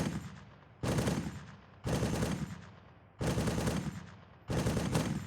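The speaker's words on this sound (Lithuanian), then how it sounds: "šaudo į mumis" Machine-gun fire from the Arma 3 military game comes in four sustained bursts, each sharp onset trailing off into a decaying rumble, spaced about a second apart with short gaps between.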